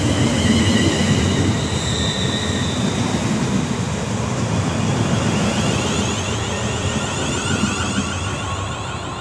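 A Class 350 electric multiple unit pulls into Milton Keynes Central on the West Coast Main Line, with a steady, loud rumble of wheels on rails and high squealing from the wheels and brakes throughout.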